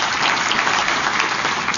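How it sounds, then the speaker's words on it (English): An audience at a community child abuse prevention breakfast claps together in a dense, steady burst of applause, close and loud. "Give yourselves a round of applause."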